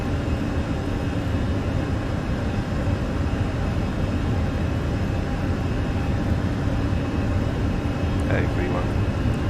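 An Airbus A320 rolls for takeoff in Microsoft Flight Simulator 2020 on a flight out of Dublin. Jet engine roar and runway rumble hold steady and loud throughout, with a brief higher tone near the end.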